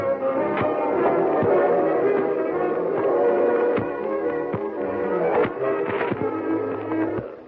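A radio-drama effect of a train running on rails: a steady rumbling hum with regular clacks of wheels over rail joints, close and continuous, with no talk.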